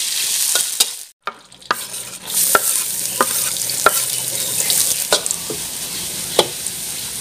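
Garlic frying in oil in a pan, a constant close sizzle broken by scrapes and clacks of a spatula stirring, with a brief quiet gap near the start.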